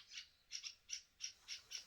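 Birds calling in a series of about seven short, high, squawking chirps at a steady rhythm, fairly faint against a quiet background.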